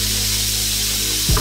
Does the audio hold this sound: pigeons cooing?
no